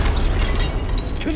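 Spell-casting in Hogwarts Legacy, an Expelliarmus disarming charm, comes across as a short, dense burst of magical rumble and crackle over a steady low-frequency bed of game noise, with no voice.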